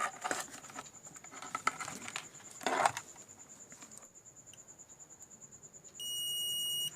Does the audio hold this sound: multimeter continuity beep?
yes